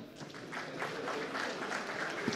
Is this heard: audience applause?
yes